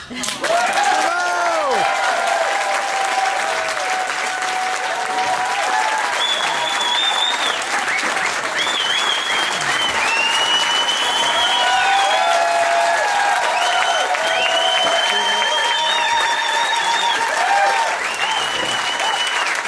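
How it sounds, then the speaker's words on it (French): An audience at a political party's national council gives steady, dense applause that fills about twenty seconds at close range, with scattered whistles and cheers rising above the clapping. "Je refuse que vos applaudissements ne s'adressent qu'à moi."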